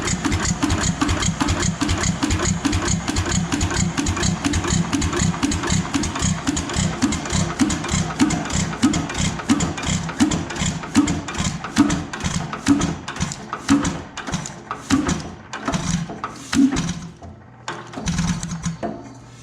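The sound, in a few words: rebuilt Economy 5hp engine running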